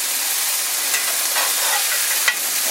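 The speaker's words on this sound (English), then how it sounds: "we'll give these guys their first flip." Hamburg steaks sizzle loudly in a cast iron pan, a dense, close frying hiss with a few soft spatula scrapes and a small clack as they are flipped.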